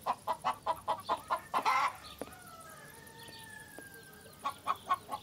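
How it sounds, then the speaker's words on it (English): Chickens cluck in rapid, rhythmic bursts close by, a run of sharp clucks, a pause with faint thin tones, then another short clucking run. "Chickens, would you just leave, please? You're being a problem."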